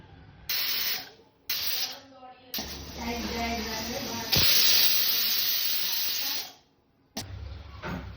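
A pressure cooker whistles while cooking lapsi made from laddu flour. Loud steam hisses come in repeated bursts, including one long sustained blast, separated by brief quiet gaps.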